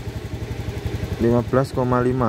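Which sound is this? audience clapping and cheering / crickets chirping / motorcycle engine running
motorcycle engine running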